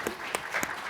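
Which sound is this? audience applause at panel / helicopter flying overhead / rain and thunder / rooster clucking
audience applause at panel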